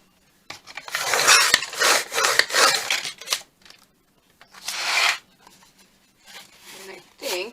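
Paper is cut for junk journal covers in a series of close, rasping strokes, several long cuts with short pauses between them. A voice briefly murmurs near the end.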